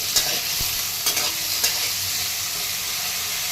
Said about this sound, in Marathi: बटाटा थोडंसं फ्राय करून घ्यायचं आहे